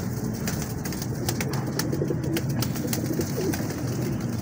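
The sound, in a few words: star pigeon cooing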